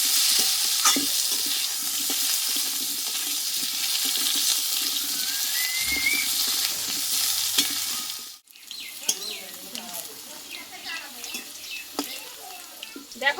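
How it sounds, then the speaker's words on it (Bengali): Potato pieces fried in oil left from frying fish, a steady close sizzle with stirring for about eight seconds, then a quieter crackle broken by utensil clinks and scrapes. "এই মাছ ভাজার তেলে কিন্তু আমি একটা বড় সাইজের আলু কেটে নিয়েছিলাম এটা আমি একটু কষে নেব"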